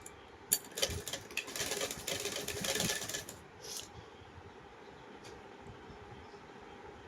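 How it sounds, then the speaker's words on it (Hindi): A sewing machine rattles briefly and rapidly while stitching a small dress for a Krishna doll, close and moderately loud for a few seconds before settling into quiet room noise. "इस तरीके से करने के बाद अब मैं इसमें सिलाई लगा लूँगी।"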